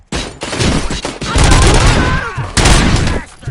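Heavy gunfire from RoboCop: Rogue City erupts in loud, close volleys of sharp shots and booming impacts, nearly continuous with brief gaps, a shout mixed in among the blasts.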